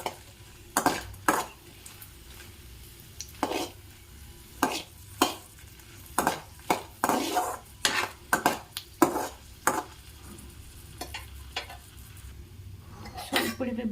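Ten to twelve dried red chillies fry in a pan for tomato mint chutney, a soft sizzle under repeated sharp clinks and scrapes of a metal spoon stirring against the pan, close and irregular.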